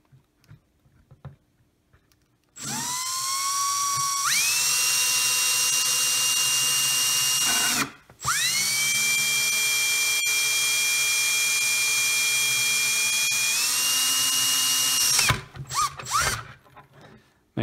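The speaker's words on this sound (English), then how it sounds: "So we're just going to go ahead and carefully drill this out." A small drill bores out the antenna hole in a Hubsan H501S transmitter in two close, whining bursts that rise to a high pitch, with a short pause between them and quiet handling noises before and after.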